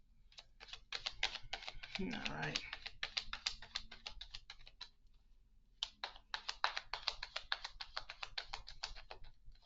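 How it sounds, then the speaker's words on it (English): Rapid, crisp riffling clicks in two bursts as tarot cards are shuffled close up, separated by a brief pause and a few quiet spoken words. "And I'm going to give this a shuffle."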